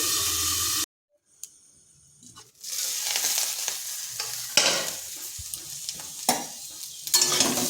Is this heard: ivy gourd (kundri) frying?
yes